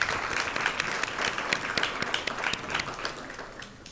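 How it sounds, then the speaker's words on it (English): Audience applause at an East African youth employment event, a steady mass of close, crisp hand claps filling the room for the full four seconds, with no talk over it. "Please give him another round of applause."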